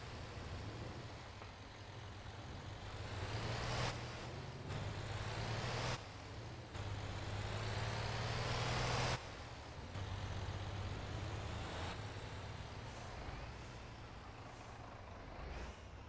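A tow truck's engine drones steadily in a truck simulator game, rising and falling in repeated surges as it accelerates and shifts, with air-brake hisses and a low continuous rumble; no talking.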